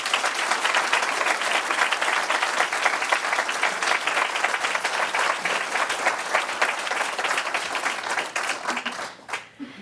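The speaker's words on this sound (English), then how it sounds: "Please give her a big round of applause." Sustained applause from an audience at the 2017 Ordre de la rose blanche award ceremony, dense steady clapping throughout that thins and fades out near the end.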